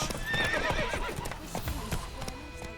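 A horse trots in The Witcher 3 with close, rhythmic clip-clop hoofbeats and a brief whinny near the start, with some background game ambience.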